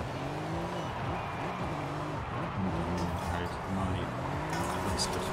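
Engine of a 2018 Mercedes E63S tuned as a Brabus 800 in Forza Horizon 5, a steady low, throaty drone rising and falling with gear changes, at moderate level throughout.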